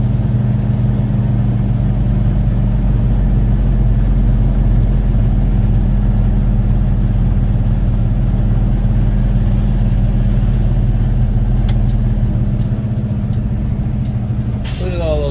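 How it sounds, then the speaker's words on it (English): Cars, trucks and vans rumble past in steady traffic, a continuous low drone heard from inside a vehicle, with a voice talking over it and a brief hiss near the end. "Look at all those freaking cars and vans."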